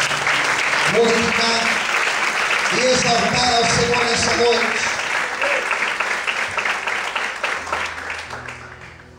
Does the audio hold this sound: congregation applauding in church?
yes